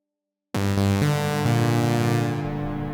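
A Softube Model 77 CS80 synthesizer plugin sounding a sustained, harmonically rich chord that swells in after a half-second of silence, its timbre shifting as the filter is swept, loud and alone.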